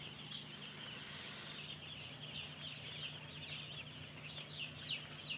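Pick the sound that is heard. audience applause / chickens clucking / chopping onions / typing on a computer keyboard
chickens clucking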